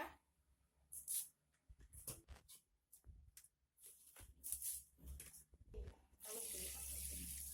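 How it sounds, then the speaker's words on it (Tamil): Water splashes and runs in bursts as drumstick (moringa) leaves are rinsed, ending with a steady stream from a tap pouring into a sink. "இது மாதிரி தண்ணி ஊற்றி நல்லா கழுவிடுக்குங்க"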